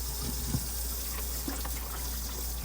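Tap water runs steadily into a vase for carnations, a constant close rush of water with a few small clinks and bumps, and no talking.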